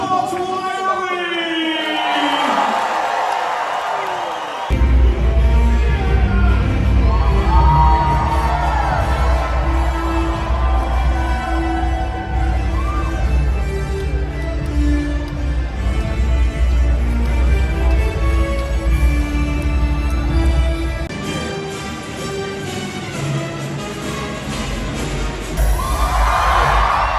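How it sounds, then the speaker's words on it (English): A convention crowd at Megacon in Orlando roars with sustained cheering, whoops and applause, loud and dense throughout, with a few shouted voices rising above the din. "the crowd applauds Wyoming!"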